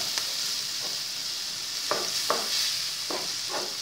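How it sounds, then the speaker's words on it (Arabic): Mashed garlic frying in a pan, a soft steady sizzle broken by several distinct scraping strokes of a spoon stirring the mixture, close and quiet with no talking. "هفضل اقلب كده هو الخليط بتاعتي"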